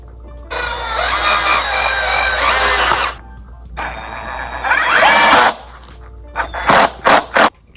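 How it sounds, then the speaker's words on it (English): A handheld power drill boring pilot holes while assembling a DIY woven leather chair: two long whirring runs, then a series of short bursts of the drill, loud and close with no talking. "I'm gonna drill my pilot holes now"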